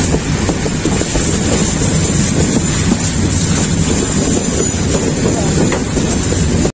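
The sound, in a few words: Chattala Express train leaving Kumira railway station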